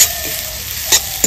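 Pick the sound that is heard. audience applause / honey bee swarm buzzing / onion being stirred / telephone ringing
onion being stirred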